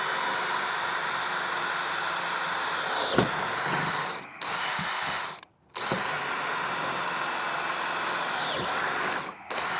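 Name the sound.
power drill drilling holes for kayak landing gear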